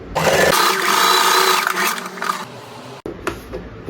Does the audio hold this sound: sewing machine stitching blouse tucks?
yes